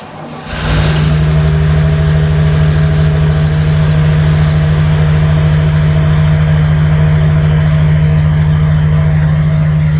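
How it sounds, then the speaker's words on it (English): A Corvair engine, low on compression in some cylinders, idles noisily after a brief start, settling into a steady, loud mechanical drone with uneven ticking and rumble throughout. "Hopefully it will go, but it is idling. It's just noisy and low on compression on some cylinders"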